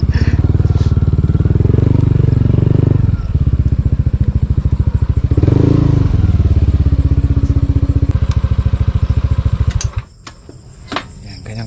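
A motorcycle engine idles loud and close with a steady rapid chug at a farm at night, then cuts off near the end, leaving a faint background.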